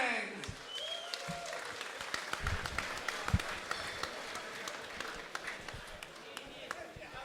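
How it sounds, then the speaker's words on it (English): Audience applause at a fight event fills the room with steady, dense clapping at moderate loudness that carries through the whole stretch, with scattered sharper claps standing out from the crowd. "big round of applause"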